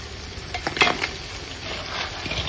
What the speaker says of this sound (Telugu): ఇప్పుడు కడిగి పెట్టుకున్న పీతల్ని వేసేసుకుందాం